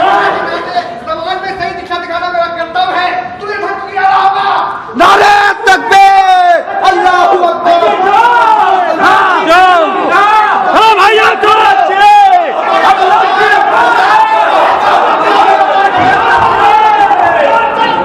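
A crowd roars back in reply to the Naara-e-Takbir slogan during a Hindi stage play: a single lead voice, then a sustained, loud swell of many shouting voices in rhythmic bursts that continues for many seconds.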